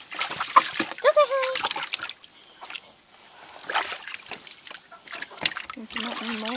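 Water splashes and sloshes as a chicken is rinsed during a bath, with uneven bursts of splatter while adults and someone talk over it.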